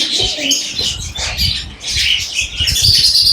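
Pigeons of many colours and breeds squawk, chirp and flutter their wings at a busy Mirpur animal and bird market, a dense, steady jumble of calls and flapping close by with faint voices mixed in.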